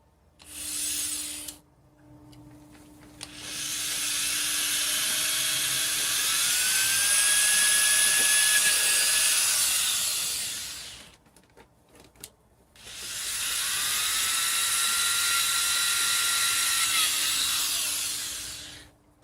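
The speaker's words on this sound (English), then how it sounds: "I'm going to drill 2 holes and then put a couple of screws in there" A power drill whirs in several sustained bursts, revving up and winding down, with short pauses between runs; loud and close, no talking.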